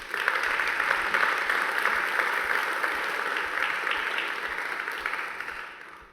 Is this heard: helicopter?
no